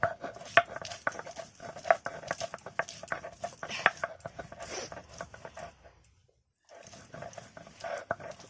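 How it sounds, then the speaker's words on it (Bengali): Garlic being ground into a coarse paste by hand, heard as a run of uneven knocking and scraping strokes up close, breaking off into near silence before faint scraping resumes. "এবারে রসুনটা বাটবো"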